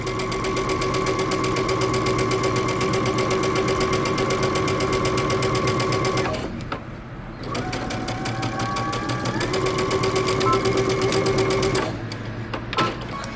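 A sewing machine back stitching a dress facing, a loud close continuous mechanical hum with a rhythmic needle clatter, dropping briefly twice for pivots before resuming.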